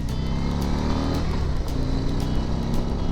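A Harley-Davidson CVO motorcycle rumbles steadily and loudly up close throughout, its deep engine note holding an even, continuous drone as the bike gets under way.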